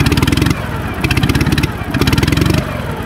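A restored Ural motorcycle engine revs hard in three close, loud throttle bursts, each a rapid thumping pulse that drops back to a rougher idle between blips.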